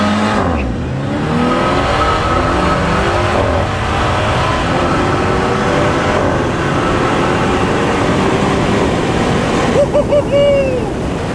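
A tuned and a stock BMW F30 launch hard with launch control, a loud roaring engine note rising through the run, close and dominant, with brief tire squeal near the end and voices faintly beneath.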